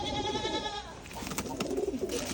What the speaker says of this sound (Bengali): এই কবুতর সবগুলোই